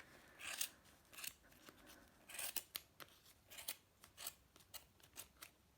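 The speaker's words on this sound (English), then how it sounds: "you want to cut through all of the yarn with a pair of scissors." Sharp scissors snipping through wound yarn while making a pom pom, a quick series of close, crisp cutting clicks in irregular rhythm, quiet with no talk.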